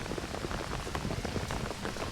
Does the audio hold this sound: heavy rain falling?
yes